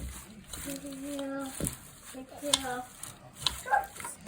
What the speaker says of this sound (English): So we'll stir this up.